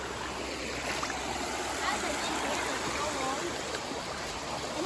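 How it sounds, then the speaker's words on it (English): Steady rushing of creek water flowing over mud and stones at a campsite, a continuous close wash that persists throughout with faint voices beneath it. "we're finally at the creek"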